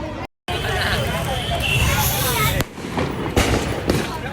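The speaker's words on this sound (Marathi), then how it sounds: "बारीक जण फटाके फोडतायत" Firecrackers go off during a Diwali dawn celebration, with loud, close bangs and crackling over a busy crowd babble. There is a brief dropout near the start, then a fresh burst of pops partway through.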